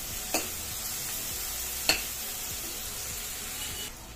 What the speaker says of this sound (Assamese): গোটেইখিনি ভালদৰে লৰাই দিছোঁ